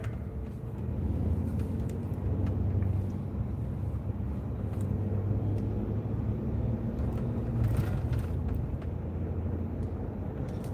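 Steady low road-traffic rumble from passing cars in a crash-prone city, continuous and moderately loud with some wind buffeting, no voices standing out.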